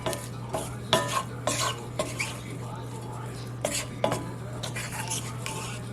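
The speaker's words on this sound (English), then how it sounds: "Let's give this a little mix to do first before we add anything else." A spoon stirs filling mixed with onion soup mix in a pan, giving repeated scraping and clinking strokes against the metal over a faint sizzle and a steady low hum.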